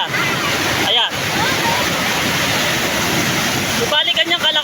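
Loud, rushing floodwater pouring down from a mountain roars continuously up close, with a voice briefly speaking over it near the start and again at the end.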